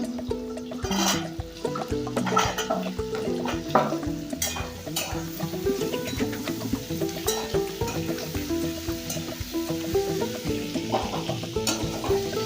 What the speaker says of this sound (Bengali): আলুটাও একটু এর সঙ্গে ভেজে নেব।